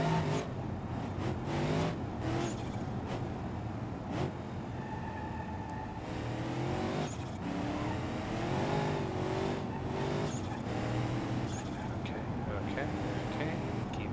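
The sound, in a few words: car driving in BeamNG video game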